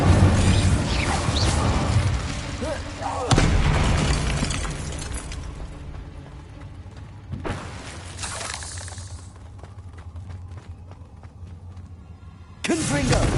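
A fire-casting Incendio spell in the Hogwarts Legacy video game, heard as loud bursts and crackling blasts that cut in and out several times, with quieter stretches of game noise between them.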